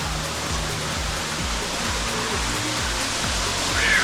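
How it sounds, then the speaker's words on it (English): A waterfall at Hanging Rock State Park pours steadily, a broad constant rushing roar of falling water heard close and alone, with faint low thumps underneath. "There's another waterfall over here."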